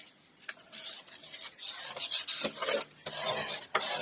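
Folded paper pockets are burnished by hand, giving several short dry rasping rubs in quick succession, close and fairly loud, with brief pauses between strokes.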